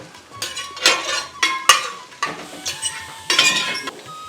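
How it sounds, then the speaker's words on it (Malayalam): Coconut and cashews frying in a pan with a soft sizzle, broken up by repeated scraping strokes of a spoon stirring against the metal, close by. "തേങ്ങയും കാഷ്നട്ടും ഏകദേശം അത്യാവശ്യം മൂത്ത് വരുന്നുണ്ട്."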